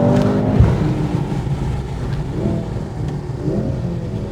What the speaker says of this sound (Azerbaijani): Sürətlər qutusunun səsi dəhşət.